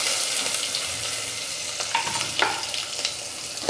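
Onion frying in hot oil with cumin and asafoetida in a pan, a steady close sizzle with occasional stirring scrapes and clinks, no talking.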